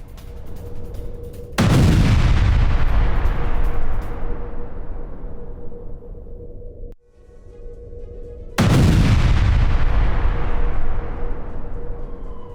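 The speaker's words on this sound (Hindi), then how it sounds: "जो धमाका हुआ उसकी आवाज" Two powerful booming explosions from a Ukrainian attack on a Russian supply line in Luhansk, each with a long rumbling decay, separated by a few seconds of quieter background noise.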